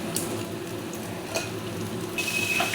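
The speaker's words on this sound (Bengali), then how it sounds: "পেঁয়াজটাকে ভালো করে ভেজে নেবো পেঁয়াজ পাতাটা ভালো করে একটু ভেজে নেবো" Chopped onion, spring onion and green chilli fry in a pan with a steady soft sizzle, with a few light clinks of a utensil against the pan.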